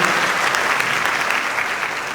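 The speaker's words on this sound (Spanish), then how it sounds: "Un aplauso para Angélica Mota." An audience at a panel forum claps steadily throughout, a dense wash of applause without pauses.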